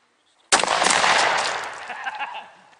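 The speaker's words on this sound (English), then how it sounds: "The second one I'll be shooting is 3-inch 12 gauge turkey load 5 shot." A single loud 12 gauge shotgun blast firing a 3-inch turkey load of 5 shot, a sharp sudden report close by that rolls off into a fading echo.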